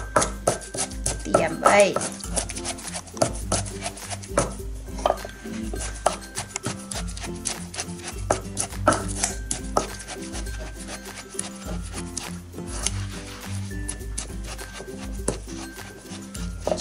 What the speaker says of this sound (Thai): อันนี้เฮาก็สิมาตำข้าวเบื่อเนาะข้าวเบื่อไว้ใส่แกงหน่อไม